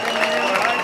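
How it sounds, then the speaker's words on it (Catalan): Brief burst of applause and crowd noise at a celebration as a cake is presented, steady and fairly loud throughout. "un aplaudiment pel pastís"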